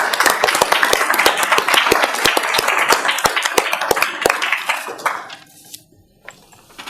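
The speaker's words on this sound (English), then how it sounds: "Let's have another round of applause for the doctor." An audience at a Westland city council meeting applauds with dense, loud clapping that holds for about five seconds, then tapers off into a quiet room.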